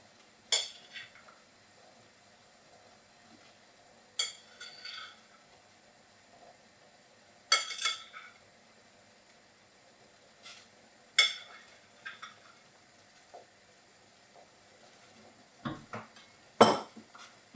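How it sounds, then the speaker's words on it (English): Soft scrapes and clinks of a utensil stirring tang yuan sweet rice balls in a pot of boiling soup, occurring in intermittent bursts against a quiet background. "And just stir them around a little."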